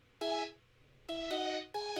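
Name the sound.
ringtone-like synth from Ableton wavetable preset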